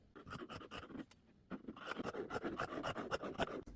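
Scissors cutting fabric for an egg-collecting apron: close, crisp snipping and rustling strokes in an uneven rhythm, with a brief pause midway.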